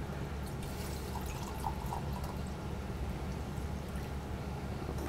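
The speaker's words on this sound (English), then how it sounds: "I'm just going to pour this into our glass here" A smoked apple cider cocktail pours steadily into a glass, a continuous soft trickle and splash heard close and fairly quiet over low background hum, with no talking.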